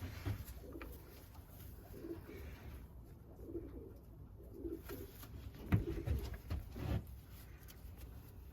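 Racing pigeons, including a black pied bird, coo in soft, repeated low throaty pulses throughout, with a few louder rustles and bumps near the end and no voices.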